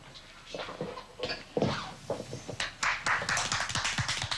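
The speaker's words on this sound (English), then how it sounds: "And then the next thing, everybody starts clapping." Dinner party guests at a home-cooked competition dinner clap, starting with a few scattered claps and swelling into denser, fairly close applause.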